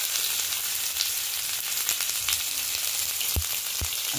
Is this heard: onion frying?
yes